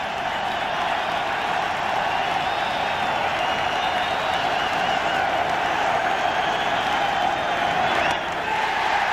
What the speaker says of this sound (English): And the fans up and cheering again on the 3-2 pitch with 2 out